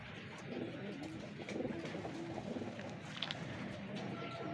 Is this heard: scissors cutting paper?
no